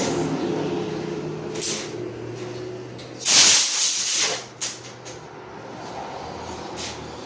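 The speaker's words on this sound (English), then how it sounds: "using some compressed air, clean it out" A burst of compressed air blows through a small engine carburetor during cleaning, a loud hissing rush lasting about a second that tapers off, followed by a short second puff, over a low background hum.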